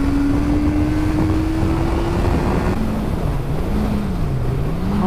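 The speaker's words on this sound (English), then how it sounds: "now I'm revving it a bit more" A Honda CBR650R's engine revs steadily and rises in pitch, then wavers up and down, heard close under constant loud wind rush while riding.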